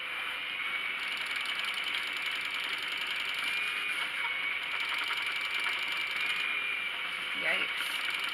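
A spinning wheel plying yarn rattles steadily from an uneven bobbin, giving a continuous mechanical clatter with a constant whirring hum and a brief extra knock near the end.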